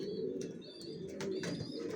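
Young long-distance Johnson-line racer pigeons coo softly, their low throaty murmurs rolling steadily across two seconds at a faint, close level with no voices.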